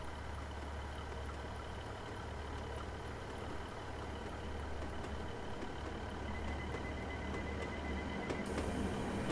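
A London Overground train rumbles past at moderate distance, a steady low mechanical drone with rail noise that builds slightly toward the end, faint overall.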